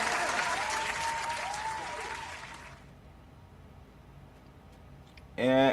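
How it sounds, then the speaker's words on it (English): A round of applause from a crowd, dense and loud for a few seconds before tapering off into quiet, with a voice speaking over the clapping and again at the end. "A round of applause for that."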